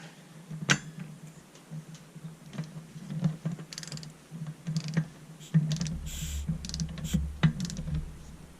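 A reverse click-type torque wrench tightens a chainsaw clutch on a Farmertec G660 build, giving sharp, spaced ratcheting clicks and taps close by, irregular in rhythm, over a low steady hum.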